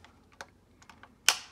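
Light plastic clicks from a Microsoft Surface Precision Mouse being handled during reassembly, a few soft taps followed by one sharper, louder click near the end, close and isolated.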